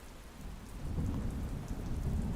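Steady rain falls with a low, continuous rumble of distant thunder underneath, the wash swelling slightly after the first second and holding at a moderate, even level.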